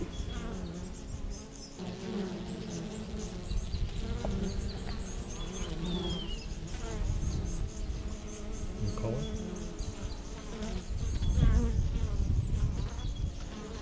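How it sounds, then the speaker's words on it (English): Honey bees buzz in a dense, steady drone at a hive entrance in pre-spring, many insects at once, growing slightly louder toward the end. "Is there a lot of bees at the front of the hive?"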